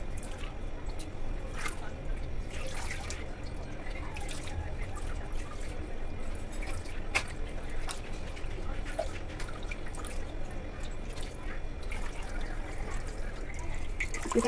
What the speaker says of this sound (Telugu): వాటర్ మొత్తం దిగిపోతుంది.